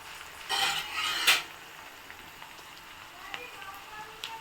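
Bitter gourd fry being stirred slowly in a pan, a few close scraping and clinking strokes early on, then quieter sizzling with faint scrapes.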